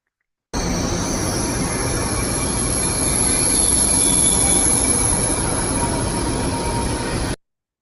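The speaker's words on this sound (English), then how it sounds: "you start going on this train, and it gets going fast very quickly" High-speed train in China travelling fast: a loud, continuous rumbling roar with a sustained high-pitched wheel squeal running through it from start to finish.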